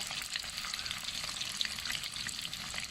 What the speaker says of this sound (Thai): ขั้นตอนนี้เราก็ทอดกุ้งไป